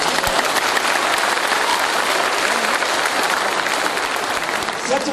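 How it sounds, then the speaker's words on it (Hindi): Audience clapping fills the whole stretch as dense, steady applause from a crowd at a motivational business talk, loud and continuous throughout. "ताली बजाना, जोश हो जाए दोस्तों।"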